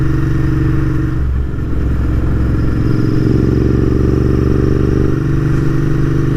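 A Royal Enfield Continental GT650 parallel-twin motorcycle rides along a road with a steady, loud engine drone and a low exhaust rumble that rises and falls slightly as it holds speed, with wind noise over it and no talk.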